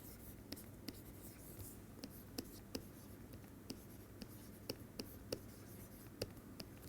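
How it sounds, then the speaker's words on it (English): Chalk or marker strokes on a board during an algebra lecture, a series of sharp light taps and scratches spaced irregularly over a steady room hiss, fairly faint, with no talking. "Let me write that down."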